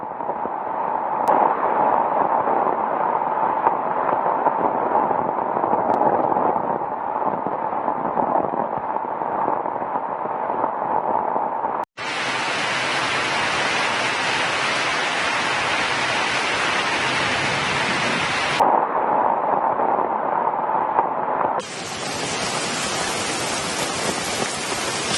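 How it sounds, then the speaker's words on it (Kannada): Heavy rain pouring down in Mangaluru: a dense, steady roar of downpour filling the whole stretch, surging louder and brighter in the middle and again near the end, with no voices. "ಸಿಕ್ಕಾಪಟ್ಟೆ ಮಳೆ."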